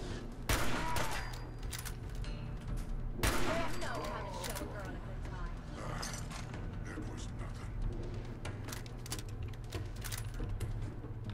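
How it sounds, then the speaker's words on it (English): Gunfire in the video game Fallout 4 comes as sharp, sudden cracks, with a few loud shots standing out over a dense bed of game noise and scattered clatter. "I like how he hears gunshots."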